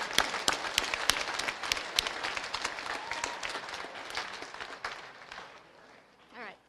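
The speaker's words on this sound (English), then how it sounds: "Let's give these amazing students a round of applause" Applause from a Class Day audience honoring students, a dense crowd clapping at steady loudness for several seconds before fading, with a few voices at the very end.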